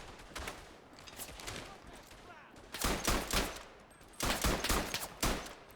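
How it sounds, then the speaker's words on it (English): Soldiers' rifle and machine-gun fire in the First World War shooter Verdun rattles in repeated bursts and volleys, some close and loud, others more distant, with faint background noise between salvos. "Alright, our lads are still firing."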